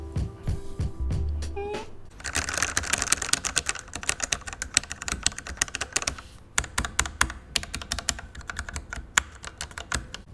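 Typing on a Corsair K60 RGB Pro or K100 RGB mechanical keyboard, a dense run of quick, crisp key clicks with a few brief pauses, close and clear with no talking.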